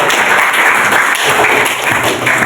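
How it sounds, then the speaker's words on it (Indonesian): Steady applause from a class of students fills the room, a dense continuous patter of clapping hands that stays loud and even throughout. "kita beri aplaus untuk Deca"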